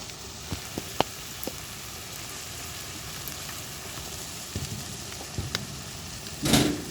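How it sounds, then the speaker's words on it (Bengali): Spice masala for mutton curry is sautéed in oil, giving a faint, even sizzle with a few sharp clicks of stirring and a louder scrape near the end. "মশলাটাতে যতক্ষণ তেল না ছাড়বে কষাতেই থাকবো"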